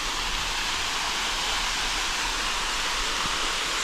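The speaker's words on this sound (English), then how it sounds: "that's a massive waterfall." A massive monsoon-swollen waterfall at Amboli, Maharashtra roars as a steady, even wash of rushing water, constant and moderately loud with no voices over it.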